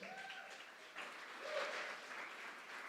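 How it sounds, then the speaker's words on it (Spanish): Church congregation at a Sunday service claps, a soft, distant-sounding patter of many hands that swells briefly midway. "Denle un aplauso al Señor"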